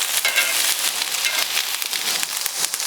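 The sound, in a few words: beer brats sizzling on the grill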